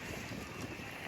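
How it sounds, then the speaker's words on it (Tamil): Wind blows steadily through a fruit garden outdoors, a faint, even rushing with low microphone buffeting and no talk. "காற்று ஒரே காற்றாக இருக்குது."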